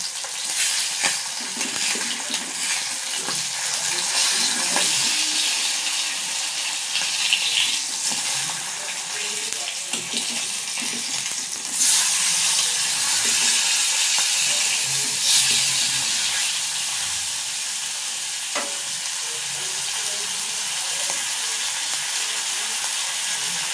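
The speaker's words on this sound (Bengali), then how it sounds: "মাছগুলো কি ফোটা ফুটতে থাকে" Fish fry and sizzle in a pan with a constant bright crackle and hiss, with occasional stirring clatter and spikes of spitting oil.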